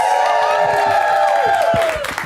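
A live audience at the UCB Theater in Los Angeles cheering and whooping, a dense loud roar with whistles that fades toward the end.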